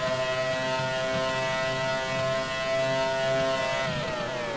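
A race car engine in the Grand Prix 4 video game at Hockenheim drones with a steady, harmonic whine that shifts in pitch near the end as the car closes in from behind.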